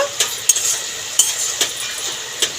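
A spoon stirs ash gourd and shrimp curry in a pan, with a few sharp scrapes and clinks spaced over a soft, steady sizzle, close up and without any voices.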